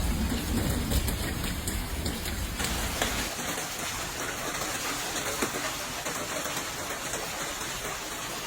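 A supercell storm with hail and heavy rain over Calgary, Alberta: a dense, continuous hiss of pelting precipitation with scattered sharper impacts, loudest at first and then settling into a steady downpour.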